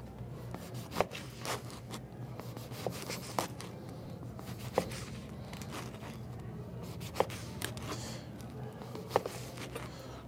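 A knife slices an Italian sub roll into half-inch crostini rounds, making a series of crisp, evenly spaced crunchy cuts against a board over a low steady room hum, with no voices.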